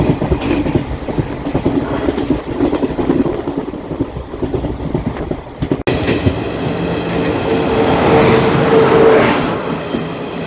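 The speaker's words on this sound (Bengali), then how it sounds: "একদম রাইট টাইমে মানকস স্টেশনে আমাদের ট্রেন" The Black Diamond Express train rolls into Mankar station, a loud continuous rumble and rattle of wheels on rails with a sharp clank midway, followed by rising squealing brake tones.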